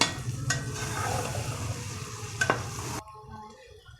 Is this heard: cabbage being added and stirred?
yes